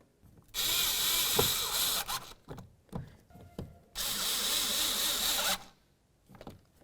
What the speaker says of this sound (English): now we can grab both of our Phillips head screws and put them in